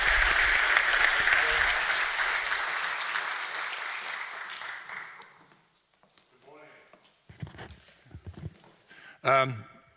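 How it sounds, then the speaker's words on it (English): Audience applause at a deep tech innovation forum pitch session, loud and sustained clapping for about five seconds before fading out into scattered movement and brief voices. "let's give a big applause to Peter"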